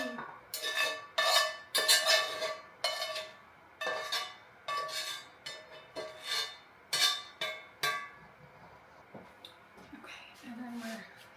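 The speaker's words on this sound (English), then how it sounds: "Okay, and then we're mixing. We're mixing this all up." A utensil stirs eggs, cheese and cooked sausage together in a bowl, giving repeated close clinks and scrapes against the bowl at an uneven rhythm, with someone speaking now and then.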